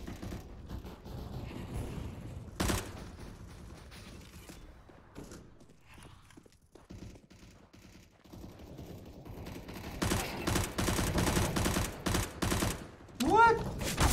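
Bursts of gunfire in the video game CS:GO, scattered sharp shots and rapid volleys at moderate loudness, growing denser toward the end, with some talk around them.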